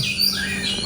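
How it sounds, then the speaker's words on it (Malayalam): Several birds chirp and call in the morning in quick overlapping bursts, bright high tweets over a steady outdoor background, with no talking. "എന്ത് രസമാണ് കിളികളുടെ ഒച്ച രാവിലെ തന്നെ."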